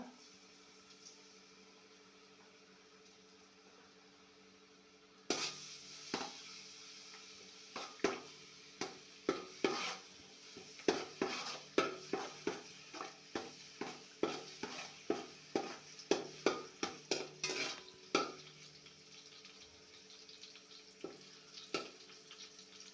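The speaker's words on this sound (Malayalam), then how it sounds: "സൺഫ്ലവർ ഓയിൽ ഒഴിച്ച് ചൂടായി കഴിയുമ്പോൾ ഇഞ്ചി വെളുത്തുള്ളി പേസ്റ്റ് ഇതല്പം രണ്ട് സ്പൂൺ ഇഞ്ചി വെളുത്തുള്ളി പേസ്റ്റ് ഇട്ട് കൊടുക്കുക" Two spoons of ginger garlic paste fry in hot sunflower oil with a soft sizzle. After a quiet start, a spatula scrapes and clicks against the pan in a steady, repeated stirring rhythm.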